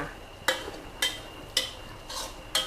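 Eggplant is stir-fried in green curry paste in a pan, with about five sharp spatula scrapes and knocks at a steady rhythm over a faint sizzle.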